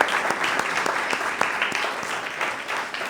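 A church congregation at a New Year sermon breaks into sustained applause, many hands clapping in a thick, even wash that holds steady throughout with no voices on top.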